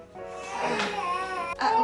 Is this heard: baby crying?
yes